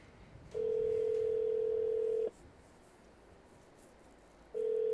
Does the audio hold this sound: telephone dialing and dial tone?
yes